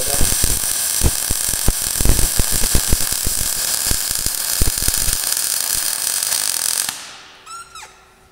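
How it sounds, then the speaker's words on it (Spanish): Arc welding a steel pipe for a trailer hitch with a hydraulic brake, a steady loud crackling buzz with sharp pops running for about seven seconds before cutting off, leaving a faint quiet tail. "lo que hacemos es soldar bastante derecho"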